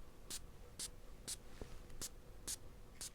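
Short, crisp hissing bursts from an atomizer of Dear Polly perfume by Vilhelm Parfumerie, about six quick sprays evenly spaced in steady succession, close to the listener in a quiet room.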